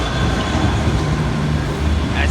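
The refurbished Enterprise passenger train to Belfast rolls into Dundalk station, a loud continuous rumble of wheels and engine right alongside the platform, with a faint squeal near the end.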